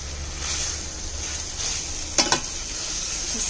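Tuna spaghetti with vegetables stirred in a pan over a constant close frying sizzle, with a quick pair of utensil scrapes near the end and no talking.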